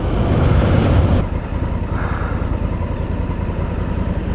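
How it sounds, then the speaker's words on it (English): A loud engine rumbles close by, then drops to a steadier idling drone as the vehicle passes or slows. "Oh, tractor."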